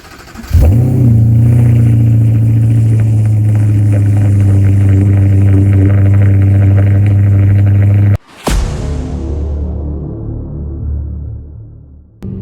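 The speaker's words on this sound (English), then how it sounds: "I'm about to cold start and wake up everybody here at the Residence Inn" An Audi R8 cold-starts outside a Residence Inn with a loud close catch, then holds a strong steady high idle drone, cuts off briefly and restarts into a lower settling idle.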